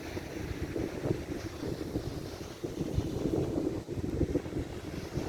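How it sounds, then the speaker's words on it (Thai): An afternoon wind blows outdoors in Australia as a constant low rumble with gusty buffeting against the microphone, near water, without any talking. "ออกมารับลมช่วงบ่าย"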